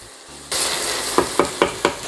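Onions caramelizing in a pan on medium heat: a sudden steady sizzle starts, then four evenly spaced spatula scrapes or taps ring out over the frying, close and clear.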